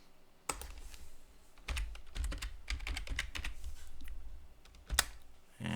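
Typing on a computer keyboard during a Linux terminal session, a quiet run of rapid key clicks in uneven bursts with short pauses and a harder keystroke near the end.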